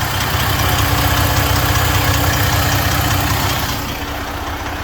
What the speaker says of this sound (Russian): Кстати, вот он мотор.